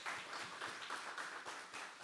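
Church congregation at a Sunday service applauding, a faint, distant patter of many hands clapping in a quick uneven rhythm for a couple of seconds.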